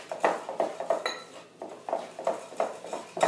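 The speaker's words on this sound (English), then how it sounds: "Just give that a good whisk." Brown sugar mixture whisked briskly in a bowl, the whisk clinking against the sides in quick regular strokes, close and fairly loud, with no voices.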